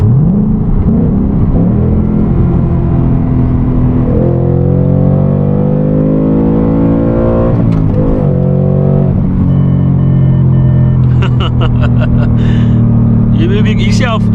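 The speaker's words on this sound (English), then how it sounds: "You see how far I brought the rev limiter" A manual car's engine revs hard and climbs toward the rev limiter, a loud, close, continuous whine that rises, dips with a shift, then holds high, with brief clicks and bursts near the end.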